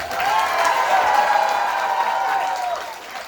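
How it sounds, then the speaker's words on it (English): Audience applause at an outdoor Ramayan recitation in a park, a dense, steady wash of clapping that holds for about three seconds and then fades slightly. "I think he deserves a louder round of applause."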